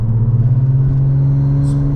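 A Porsche 911 Turbo with a straight-piped exhaust drones at a steady, loud, low pitch, close and continuous, with no voices over it.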